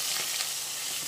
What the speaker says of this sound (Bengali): আর একটু কড়া করে ভেজে নিই, মাছগুলো কড়া করে না ভাজলে পরে না ভালো লাগে না